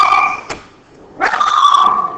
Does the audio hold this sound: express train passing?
no